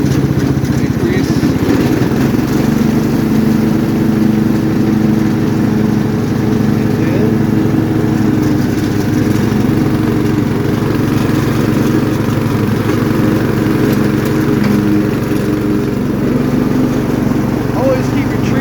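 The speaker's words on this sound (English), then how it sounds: "Engage your blades." A riding lawn mower (lawn tractor) runs steadily with its cutting blades engaged, a loud continuous engine drone with a low mechanical hum that stays constant and close throughout.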